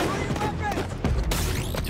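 Gunfire in a Spider-Man video game: bursts of loud gunshots and heavy thumps crackle among dense action noise, with tonal effects sweeping over them.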